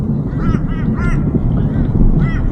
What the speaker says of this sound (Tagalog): Daming uwak oh.